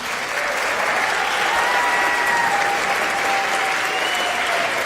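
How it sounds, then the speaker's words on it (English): A school audience at a junior high spring concert applauds, a dense and even clapping that stays loud and unbroken throughout, with no pauses. "Give him a round of applause"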